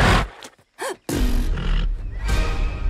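A horse in a Hungarian-dubbed animated film trailer gives a brief whinny, squeezed between dense, loud bursts of trailer sound and effects.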